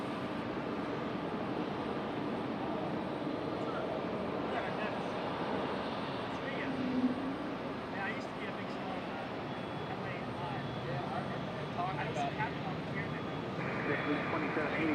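A Boeing 777 airliner lining up and taking off at Raleigh-Durham International Airport, a broad steady engine roar heard from a distance that holds throughout with a slight swell midway, with faint radio chatter.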